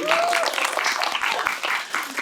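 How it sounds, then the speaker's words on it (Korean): An audience at a film festival talk breaks into brief, lively applause in a hall while a voice speaks over the clapping. "박수 부탁드립니다."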